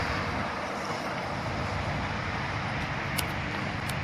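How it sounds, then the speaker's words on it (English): Steady, distant freeway traffic heard from an overlook near a stadium and hospital makes a continuous broadband roar with a wind-like wash. It stays even for the whole stretch, with no voices. "There's the freeway. That's the noise you're hearing."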